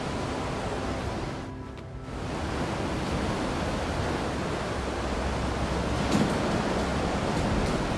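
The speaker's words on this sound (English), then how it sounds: "Kinda sounds like rushing water" Rushing water inside a building in the video game I Am Alive, a steady broadband roar that continues without pause, heard alone.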